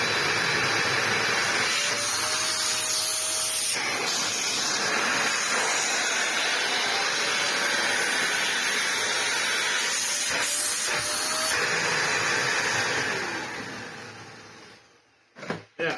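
A vintage Dyson DC03 vacuum cleaner runs close by with a loud, steady airy roar and a faint whine, its pitch shifting slightly as airflow changes, before it winds down and stops near the end.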